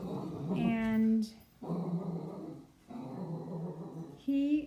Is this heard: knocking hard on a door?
no